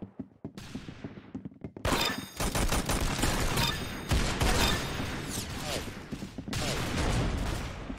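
Rapid gunfire bursts from the Roblox shooter game Arsenal, loud and dense after a few sparse opening shots, with heavy overlapping volleys and impacts running almost continuously.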